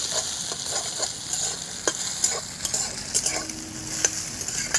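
Egg and potato fry in oil in a wok, giving a steady soft sizzle broken by sharp scrapes and clinks as a utensil stirs the pan, close and fairly quiet, with no talking.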